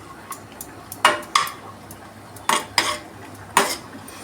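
Rice cooked with jaggery is fried and stirred in a pan until browned, with several sharp metallic scrapes and clinks of a spoon against the pan over a soft sizzle, no talking.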